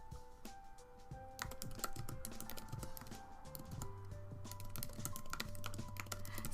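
Typing on a computer keyboard, a steady quick patter of light key taps close by that runs without pause through the whole stretch, over a faint background hum.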